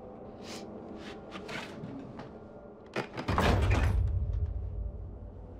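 A door shuts in a tense horror-mystery scene, a sharp bang followed by a heavy rumbling thud that lingers, preceded by a few faint breaths or vocal sounds over a low steady room hum.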